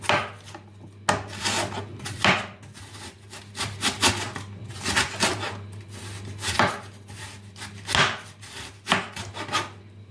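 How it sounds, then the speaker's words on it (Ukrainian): A sharp knife slices cabbage thinly for a salad in quick, uneven runs of crisp cuts against a board, close and clear, with short pauses between strokes. "І ми зараз швиденько поріжемо капусточку"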